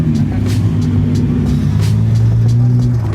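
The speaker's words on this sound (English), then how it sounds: "Oh, GTR!" A Nissan GT-R moves past at a car meet, its steady low engine drone holding close and fairly loud over the crowd for a few seconds, with voices talking nearby.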